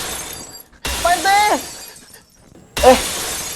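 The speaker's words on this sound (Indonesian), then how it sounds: "Kok pukulan Dayat masih ada suaranya? Kayak suara kaca." A shop window's glass shatters in two loud bursts, each a bright crash with clinking shards, separated by a brief silence.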